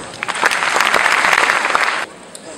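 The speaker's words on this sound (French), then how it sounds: "je pense que cela mérite des applaudissements" Brief burst of audience applause at a French-speaking ceremony, dense and fairly loud for about two seconds before cutting off abruptly, leaving quiet room tone.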